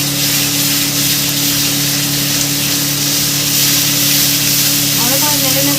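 Ginger-garlic paste sizzles and fries in a pan while being stirred for a bhetki fish curry, giving a steady, close, continuous hiss with faint scraping near the end.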